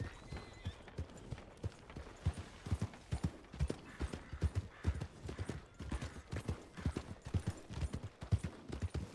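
Rhythmic clip-clop of horse hooves at a steady trot in a video game, moderately quiet and continuous, with no talking.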